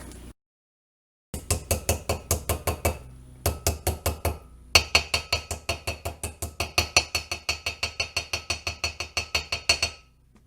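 Bearing seal being tapped into a car brake rotor during restoration of a 1983 El Camino: dozens of sharp, close metallic hammer strikes in quick rhythmic bursts, with short pauses between runs and no talking.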